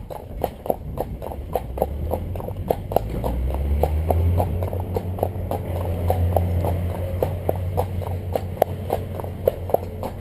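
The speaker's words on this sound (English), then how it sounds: "what we'll do is we're going to have a little trot." A cob horse trots with a steady, rhythmic clip-clop of hooves, close and clear, over a low rumbling background of wind or movement.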